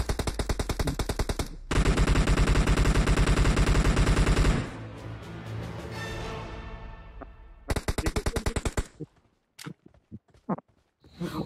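Automatic gunfire from the mobile battle-royale game PUBG Mobile rattles out in loud, dense sustained bursts, then fades into a quieter pause before shorter, sharper volleys return.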